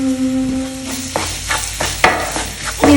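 Minced chicken with masala sizzles loudly in a pan, close by, while a spatula scrapes and stirs it in repeated strokes over a steady frying hiss.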